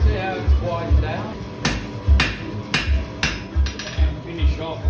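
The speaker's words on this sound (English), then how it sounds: "lean right over it and hammer it" Sharp metallic hammer strikes ring out on hot steel being forged into a knife blade, a steady series of about a dozen close, loud blows with brief pauses between them.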